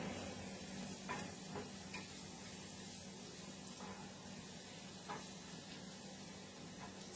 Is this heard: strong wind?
no